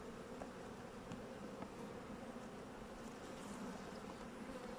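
Honey bees swarm and buzz around an opened beehive during an autumn inspection, a dense, steady drone that fills the whole stretch with no pauses, fairly near.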